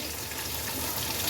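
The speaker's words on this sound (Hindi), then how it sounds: "थोड़ा सा इसमें पानी डाल दें, यही 2 टेबल स्पून के करीब।" Water is poured into a cooking pot of chopped tomatoes, garlic and ginger, making a steady, close gushing splash that runs without a break.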